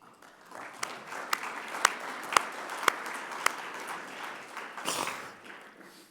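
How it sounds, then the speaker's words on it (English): Applause for event sponsors in a lobby or hall, a broad wash of clapping with several sharp louder claps standing out, swelling near the end and then tapering off. "we can give you a round of applause for helping out today"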